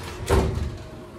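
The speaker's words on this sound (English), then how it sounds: "Lock the door. Close the door." A house door pushed shut with one muffled thud, then a brief rattle as it settles, heard close indoors with no talking.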